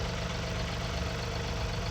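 A tractor engine idles in an orchard, giving a steady low mechanical rumble with a faint knocking pulse that holds constant and close for the whole stretch.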